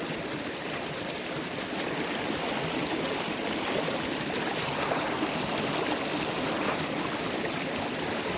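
Mountain stream water rushes steadily and fairly loudly nearby on a Pacific Crest Trail hike, a continuous, even wash of flowing water with no voices.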